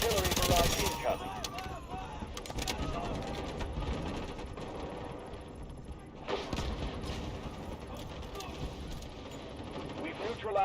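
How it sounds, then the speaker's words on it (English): Video-game artillery barrage and gunfire in a combat demo: a heavy burst of firing at the start, then sustained rattling shots and explosions with another surge midway, loud and close, with voices talking over the battle. "Artillery barrage incoming."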